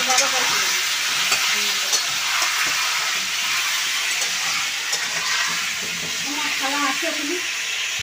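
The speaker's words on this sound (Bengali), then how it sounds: "আলুটা এখন লাল লাল করে ভেজে নেবে" Potatoes fry in hot oil in a kitchen pan, sending up a loud, continuous close sizzle that holds steady throughout with small crackles on top.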